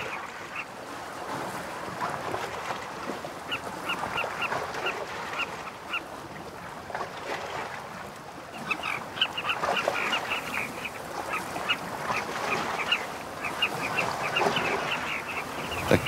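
A dense, noisy colony of colourful birds nesting on cliffs, many overlapping honking and squawking calls forming a continuous chorus, with moderately distant, layered cries rising and falling throughout and no talk.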